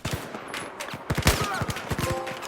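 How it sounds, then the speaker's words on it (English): Battlefield 4 gunfire during a campaign mission, dense rapid bursts of loud shots in overlapping volleys, close and punchy with no talking. "Knifing and shooting our way to the extraction point"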